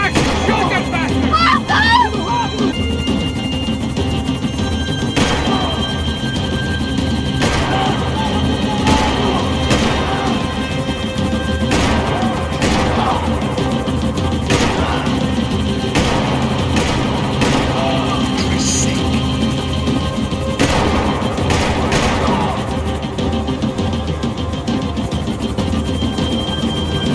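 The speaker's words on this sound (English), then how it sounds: "Max, shoot that bastard!" Heavy gunfire and explosive booms from a Max Payne 3 action sequence fill the scene with dense, continuous loud shots, crashes and engine roar, while voices shout over the chaos.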